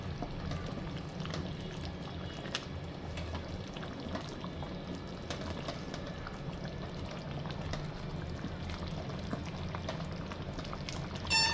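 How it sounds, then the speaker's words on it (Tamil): Mutton curry bubbles in a pot, a steady low simmering burble that goes on throughout at moderate loudness. Faint ticks and small pops are scattered over it, and no voices can be heard. "நல்லா கொதி வரட்டும்."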